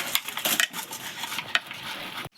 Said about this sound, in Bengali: সেদ্ধ করা আলু গ্রেট করে নিচ্ছি।